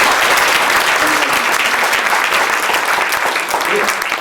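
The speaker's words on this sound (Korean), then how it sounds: "우리 배진구 목사님과 모든 임원들에게 박수 한번 좀 보내주세요." A church congregation gathered at a prayer meeting in a hotel hall applauds the pastor and officers, a dense, loud, continuous roar of many hands clapping that holds steady throughout.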